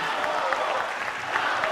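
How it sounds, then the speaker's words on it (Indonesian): A crowd at an Indonesian presidential debate breaks into dense, sustained applause, many hands clapping together at moderate volume. "kita berikan tepukan yang paling meriah"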